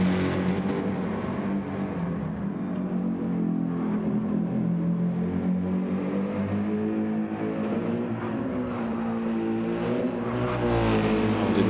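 A GT3 race car in a sim racing game, driven fast through the S bends at the Nürburgring, its engine droning loud and continuous with shifting pitch as it accelerates through the corners.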